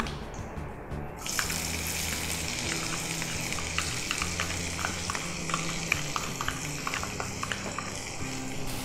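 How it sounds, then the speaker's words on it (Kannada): Onions and curry leaves frying in a pan, a steady broadband sizzle that starts after a quiet second and continues evenly throughout, with faint stirring clicks scattered over it. "ಈರುಳ್ಳಿ ಹಾಕಿ ಫ್ರೈ ಮಾಡ್ಕೊಳ್ಳೋಣ."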